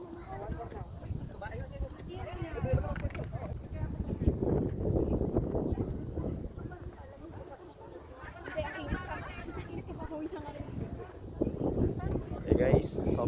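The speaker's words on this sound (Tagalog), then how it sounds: "Sobrang lakas ng hangin dito." Strong wind blows into the microphone at a Tagaytay resort, producing a constant low rumble and buffeting under nearby talk and crowd chatter.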